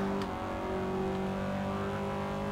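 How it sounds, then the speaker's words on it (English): A car engine in the Forza 6 racing game holds at its rev limiter, a loud sustained buzzing drone with steady harmonic whine and slight stutter, alone without talk. "I'm maxed out the rev. Limit. I maxed out the rev. Hitting the rev limiter."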